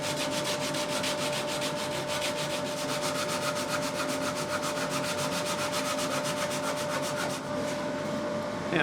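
Sandpaper rubbed over a screwed-in guitar access port cover to level the assembly: rapid, even back-and-forth scratching strokes, close and continuous, without talk.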